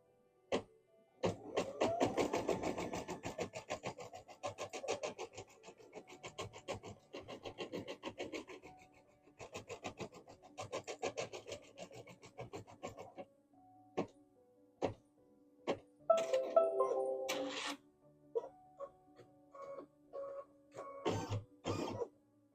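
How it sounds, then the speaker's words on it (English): Embroidery machine stitching a design, a fast mechanical rattle running in long stretches with brief pauses, then shorter clunks and bursts near the end, close and fairly loud. "we're just going to press start, and it's just going to stitch something"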